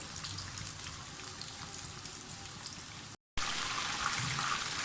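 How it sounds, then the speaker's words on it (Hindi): Marinated chicken leg pieces fry in hot oil over a medium flame with a steady, fine sizzle and crackle. The sound cuts out briefly partway through, then resumes just as before. "इसको मीडियम पे फ्राई होने दें।"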